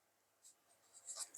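Pen scratching across paper while writing out basic experience details, faint and close, in short soft strokes that grow busier and end with a few sharper scratches.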